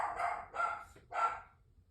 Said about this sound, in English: my dog is so loud